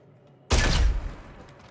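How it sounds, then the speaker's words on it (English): A sudden loud burst of gunfire in the Star Citizen video game bursts out after a quiet moment, a dense rapid volley that decays into a fading tail. "I shot one guy and it killed two of them"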